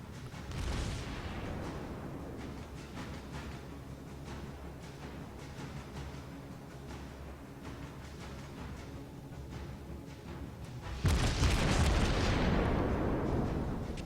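Battleship main guns firing in the naval combat game World of Warships: a heavy, rumbling salvo that swells at the start, a long low roar of distant booms through the middle, then a louder blast near the end.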